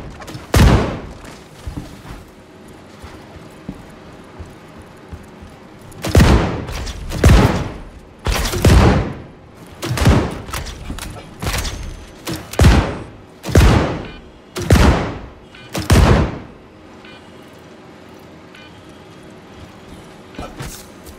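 Grenade launcher fire in the Star Citizen game: about ten heavy, booming blasts land in an irregular sequence, loud and close, over a low continuous background hum, with no voices.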